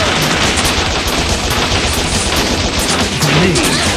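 Machine gun fire in the video game Bot Vice, a loud continuous burst of rapid shots filling the whole clip without a break, close and alone.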